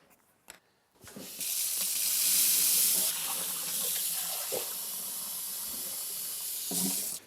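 Warm water runs steadily from a kitchen tap for challah bread dough, a broad hiss that starts abruptly after a couple of small knocks and flows loudly and evenly for about six seconds before cutting off.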